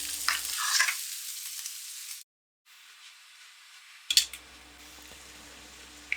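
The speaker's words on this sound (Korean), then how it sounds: "베이컨이 타지 않고 기름이 가득 나올 정도까지만 구워요." Bacon sizzles and crackles quietly in a pan over medium heat, with occasional stirring scrapes and a few brief pops, the sound cutting out briefly in the middle.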